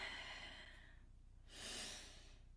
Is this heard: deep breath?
yes